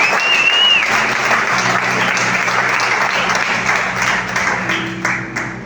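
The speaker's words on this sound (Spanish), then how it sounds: "Si lo crees, aplauda fuerte, por favor." A church congregation applauds loudly after a sermon, a thick, steady wash of clapping from many hands that holds strong and then begins to thin toward the end, with a faint voice underneath.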